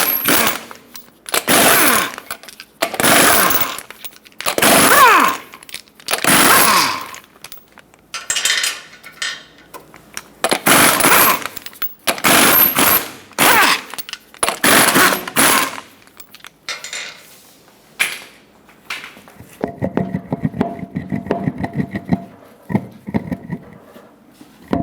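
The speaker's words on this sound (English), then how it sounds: "Use a 21mm socket, remove all 8 lug nuts, and then pull the wheel off." Impact tool on a socket spinning off lug nuts from a Ford Excursion wheel, about a dozen loud bursts separated by brief gaps, followed by quieter clinking of metal parts.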